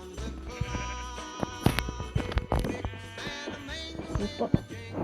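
Sheep in a video game's island world bleat again and again in short, close, fairly loud calls, several overlapping, with light game noises between them.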